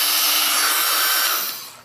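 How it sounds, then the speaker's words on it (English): Hair dryer blowing hot air onto a knife blade during basic everyday-carry knife maintenance, a steady broadband whoosh held close and loud for a couple of seconds before tapering off at the end. "a few seconds with the hair dryer"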